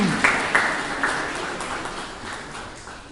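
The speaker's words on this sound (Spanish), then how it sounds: "despedirle pues con un voto de aplausos" Brief, thin applause for a departing professor at a Spanish-language panel discussion, a few scattered claps at the start fading into a soft patter over about three seconds.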